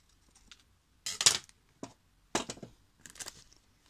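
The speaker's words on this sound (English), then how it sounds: "I'm gonna cut this corner here." Scissors cut a corner off a paper envelope in a few short, crisp snips with pauses between them, close and quiet.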